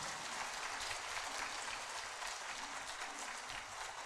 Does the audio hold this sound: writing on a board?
no